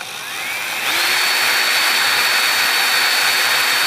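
Power drill spinning a polishing pad against a shock shaft, a steady high-pitched whir that ramps up in the first second and then holds loud and even, close by with no talking.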